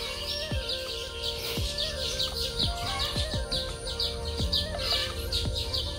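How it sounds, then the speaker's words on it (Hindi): Many birds chirp and trill continuously in a lively morning chorus, with sharp repeated calls near and far over a steady outdoor background. "आपको हमारे घर पे ऐसे चिड़िया का मुर्गी का आवाज़ सुनने को"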